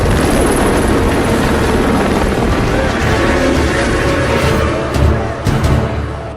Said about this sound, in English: Coming down on a helicopter, we got dropped off on just a little tiny ridge